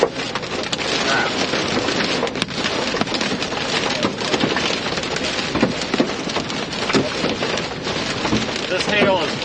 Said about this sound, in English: This hail is pretty small